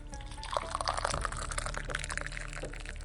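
Hot black tea and a glass of water are poured, giving a close, gurgling trickle of liquid with small splashes over a low hum.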